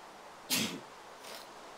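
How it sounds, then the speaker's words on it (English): A single sharp sneeze bursts out close to the microphone, followed a moment later by a softer, breathy exhale against a quiet background. "I don't know what's happening to my nose right now, but I'm sneezing"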